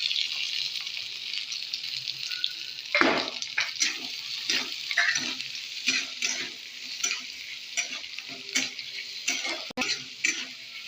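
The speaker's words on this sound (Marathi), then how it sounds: "कांद्याला लालसर रंग येईपर्यंत आपण कांदा तेलामध्ये पटवून घेणार आहोत" Chopped onions fry in hot oil for a bitter gourd dish, a steady crackling sizzle broken by repeated scraping stirs of a spatula against the pan, close and moderately loud, with no talking.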